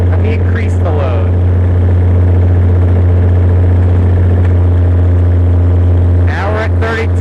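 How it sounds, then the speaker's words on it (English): A Perkins diesel generator engine drones loud and steady with a deep, constant hum under heavy electrical load, as someone speaks briefly at the start and end. "Can you see that shudder that the engine has? Let me increase the load."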